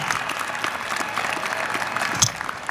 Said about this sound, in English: please get on your feet, graduates, and give them all a round of applause